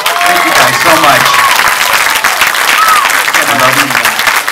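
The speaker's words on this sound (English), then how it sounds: "Give a round of applause to Tom again" An audience applauds film guest Tom McLoughlin at the close of a Q&A after a 35mm screening, loud sustained clapping mixed with cheers and whoops from a packed room.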